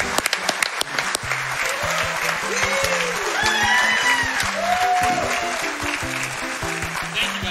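A large live crowd at a speedrunning marathon event applauds and cheers steadily for the winner of a Super Mario Bros. 3 100% race, a dense, sustained wash of clapping that stays loud throughout while game music plays underneath.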